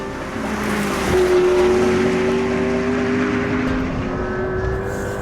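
A McLaren P1 supercar is driven hard in its most aggressive setting around the Castle Combe race circuit, its engine a loud sustained roar with a rising and holding tone heard steadily from inside.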